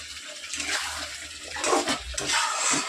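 Water poured into a pan of chicken curry mid-cook, a rushing, splashing pour that swells and surges in the second half, close and fairly loud with no talk over it.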